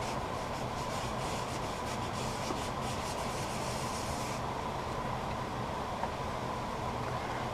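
Wax rubbed by hand onto a turned wooden piece, a steady, close, unbroken scuffing friction that carries on evenly throughout with no pauses.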